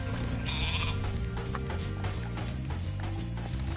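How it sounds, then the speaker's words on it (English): Goat bleating in the video game Spyro the Dragon, a steady, loud, wavering animal cry running through the whole short stretch with a dense game soundtrack beneath it. "Was he a goat?"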